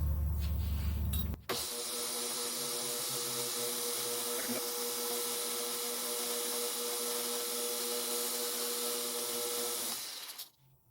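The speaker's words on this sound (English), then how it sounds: "So I'm just going to clean that up in the belt sander." A belt sander cleaning a burr off a laser-cut metal logo starts up with a steady, loud, close whirring drone that runs for about nine seconds, then winds down and stops.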